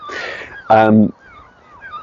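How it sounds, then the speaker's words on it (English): Seagulls call close by in a short harsh squawk with a fainter cry before it, heard in an outdoor spot with an open, quiet background. "let's say hello to seagulls"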